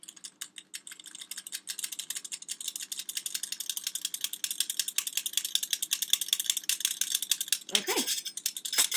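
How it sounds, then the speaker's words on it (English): Flour shaken through a hand-cranked sifter for cookie dough brownies, a dense, fast ratcheting clatter that runs throughout, close and moderately loud, with a brief voice near the end. "you can shake it or stir the flour around with a knife or a spoon, or just shake it through"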